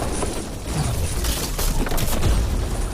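The world's largest dominoes toppling outdoors, loud heavy booming crashes and thuds rolling one after another in a rough, rumbling sequence.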